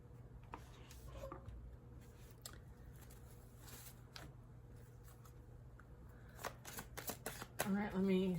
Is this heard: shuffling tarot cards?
yes